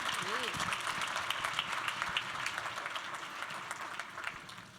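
An audience at a women's leadership conference applauds a panel with a dense, steady patter of clapping that slowly fades. A voice speaks briefly over the start of it.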